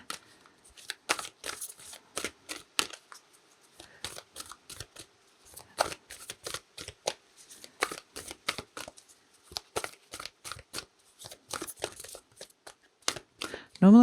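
A connection card deck being shuffled and a card being drawn during a tarot-style reading, giving crisp irregular riffles and snaps close by for the full stretch, with no talk.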